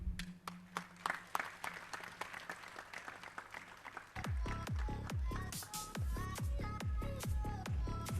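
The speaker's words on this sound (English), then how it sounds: "We request all of you to clap along and cheer along for this effort, please." Audience applause at the launch of a PG medical guide, scattered claps at first, then swelling into dense, rhythmic clapping that sounds close and fills the room.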